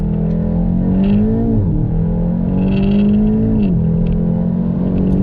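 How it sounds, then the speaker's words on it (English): A 2019 VW Golf GTI TCR's engine pulls hard through the gears, its loud, close, steady drone rising in pitch, dropping at two quick upshifts, then climbing again. No voices are heard. "Just look how quick it runs through the gears."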